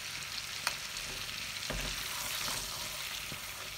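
Cardamom pods drop into a hot pan for sweet rice, making a soft steady sizzle with a few light ticks and clicks as they land and shift.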